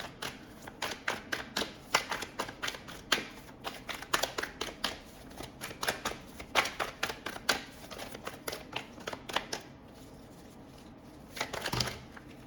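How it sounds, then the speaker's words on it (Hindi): Tarot cards being shuffled, a long run of quick crisp riffling flicks and taps in steady bursts, close and fairly soft, then a brief pause before a final louder shuffle. "इस चीज़ के लिए मुझे कुछ और क्लैरिफाइंग टैरो कार्ड्स मैं निकालना चाहूँगा"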